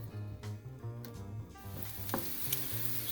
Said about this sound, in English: we are just going to throw our thinly sliced shallots in here. We're just going to let these just get caramelized.